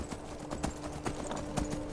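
An immortal horse in the Skyrim video game clip-clops in a steady, rapid rhythm of hoofbeats that is continuous and fairly close throughout.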